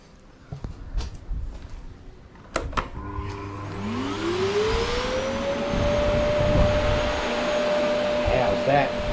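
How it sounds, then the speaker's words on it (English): A few clicks and bumps, then a vacuum cleaner powered through a 3000W inverter whirs up to a steady, loud whine and keeps running. "I've got the vacuum cleaner connected."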